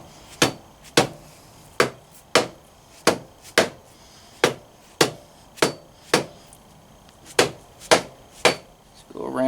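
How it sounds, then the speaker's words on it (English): Mallet blows on a stuck engine part of a Kawasaki KLX 140 dirt bike during a big bore kit install: about sixteen sharp, loud metallic knocks at a steady, slightly uneven pace, heard alone up close. "A few hits with the mallet."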